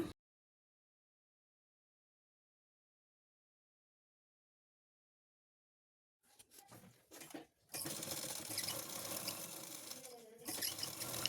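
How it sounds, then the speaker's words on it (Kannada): A sewing machine topstitches folded fabric along the top edge of a puff sleeve lining piece. After about six seconds of silence come short bursts, then a steady, close, loud run of stitching. "ಈ ರೀತಿ ಫೋಲ್ಡ್ ಮಾಡಿಕೊಂಡು ಇನ್ನೊಮ್ಮೆ ಪ್ರೆಸ್ ಸ್ಟಿಚ್ ಹಾಕೊಳ್ಳೋಣ ಮೇಲ್ಭಾಗದಲ್ಲಿ"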